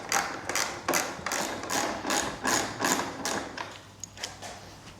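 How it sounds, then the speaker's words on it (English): A small ratchet Torx driver works screws loose on a plastic body panel of a BMW F900XR motorcycle, giving a steady train of close, rapid ratcheting clicks in regular bursts. "what I've got is a small ratchet Torx, which I can get into that, no bother at all with"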